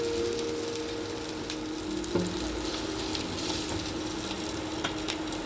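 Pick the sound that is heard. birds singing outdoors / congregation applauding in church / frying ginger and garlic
frying ginger and garlic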